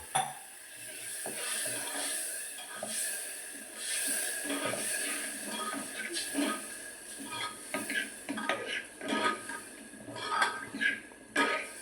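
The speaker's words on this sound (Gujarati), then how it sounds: "હલાવી લઈશું એને" A spoon stirs cluster bean vegetable curry in a metal pot after a glass of water goes in, giving soft, intermittent clinks and scrapes that grow busier toward the end over a faint background hiss.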